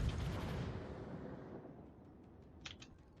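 American light cruiser guns fire a broadside in a naval battle game as a heavy rumbling boom that fades out slowly. A couple of faint clicks follow near the end.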